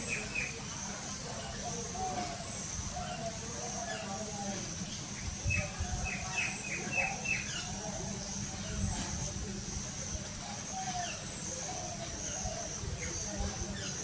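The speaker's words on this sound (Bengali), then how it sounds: "এখানে একটা পাখি আসছে।" Outdoors in front of a house, a bird gives a short run of faint, high chirps midway through, set against steady wind-like hiss and low background rumble.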